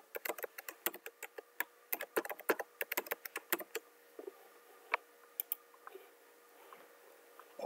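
Typing a username and password on a computer keyboard: quick bursts of crisp key clicks, close and fairly quiet, thinning out into a few scattered taps toward the end, with no talking.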